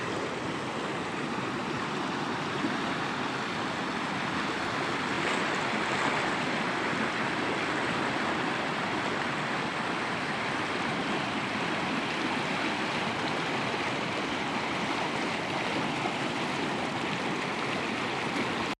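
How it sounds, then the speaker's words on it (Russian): Floodwater surges around a debris jam on a street beside a former furniture factory, a steady, broad rushing roar that holds evenly throughout with no voices. "И вода обходит затор по дороге."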